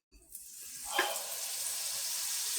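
Butter hits a hot pan or griddle and bursts into a steady, close sizzle that starts suddenly and holds at an even hiss.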